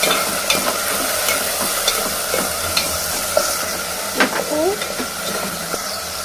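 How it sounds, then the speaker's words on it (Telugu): Onion and curry leaves fry in hot oil for a fish curry, giving a loud, steady sizzle throughout with frequent scraping, stirring clicks and clatter from the pot. "నూనె వేడెక్కి ఇప్పుడు ఆనియన్, కరివేపాకు వేసాము"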